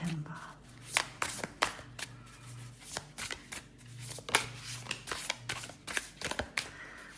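Tarot cards are shuffled by hand at close range in a busy, uneven run of soft riffles and slaps, with a voice murmuring now and then underneath.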